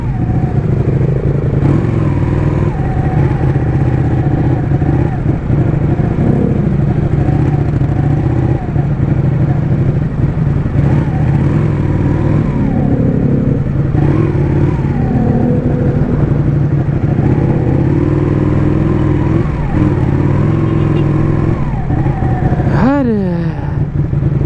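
A Ducati motorcycle ridden through hot, jammed Jakarta evening traffic, its engine droning loudly and close with throttle changes and revs, surrounding traffic clatter underneath, and a rising rev sweep near the end.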